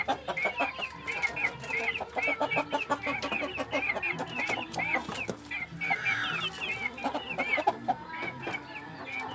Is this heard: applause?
no